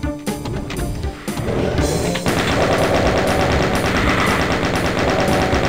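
Rapid automatic gunfire in Doom 2: Hell on Earth, loud and continuous, starting with a few scattered shots and then becoming a dense unbroken stream of shots.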